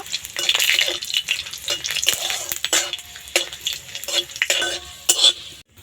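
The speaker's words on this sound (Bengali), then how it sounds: "রসুন আর কালো জিরেটা ভাজা হয়ে গেছে" Garlic and black cumin seeds fry in hot oil in a home kitchen, giving a steady close crackle and sizzle broken by quick scrapes and clinks of a utensil stirring the pan.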